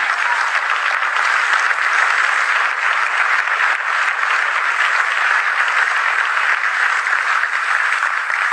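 A church congregation claps for the Lord during a sermon, steady, loud and continuous applause with no voices over it.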